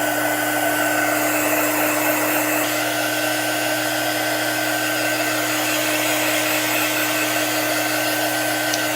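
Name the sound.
hair dryer drying chalk paint on cabinet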